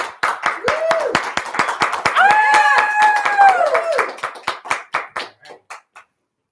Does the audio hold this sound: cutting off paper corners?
no